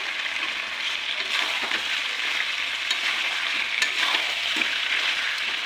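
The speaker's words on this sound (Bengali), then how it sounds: "এবারে আলু দিয়ে দেবো আলু আর তার সঙ্গে টমেটো দিলাম" Mutton stir-fries with potato and tomato in oil for a thin mutton curry, making a continuous bright sizzle with faint stirring scrapes and no talk.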